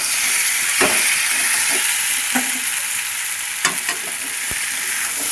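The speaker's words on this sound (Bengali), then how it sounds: "এই মশলার সাথে এবারে ভাজা আলুগুলো একটু কষিয়ে নেব" Fried potatoes being stir-fried with spices in a pan alongside ridge gourd, a continuous close sizzle with repeated spatula scrapes and knocks against the pan.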